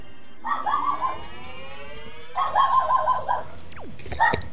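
Yelping, whining barks from a dog in The Legend of Zelda: Wind Waker come in two bursts of rising cries, followed by a short sharp yip, clear and close against quiet game background.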